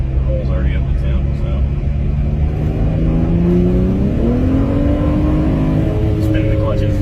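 2012 BMW 135i heard from inside the cabin, its engine droning and climbing in pitch as it accelerates through gear changes, steady and loud beneath people talking.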